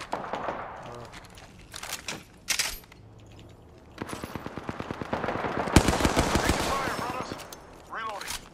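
Rapid automatic gunfire from an Apex Legends firefight, with bursts of fast shots and a sustained volley of cracks mid-clip; players talk over the action between the bursts.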